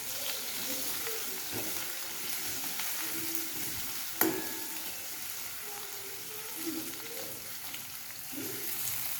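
Curry leaves frying in hot oil make a constant close sizzle, with occasional stirring scrapes and one sharp clatter near the middle, and no speech over it.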